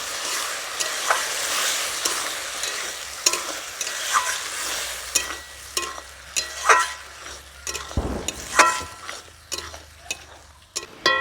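Spinach and coriander paste frying in a pan for palak paneer, stirred with steady sizzling and repeated scraping strokes, close and fairly loud throughout, with no talk.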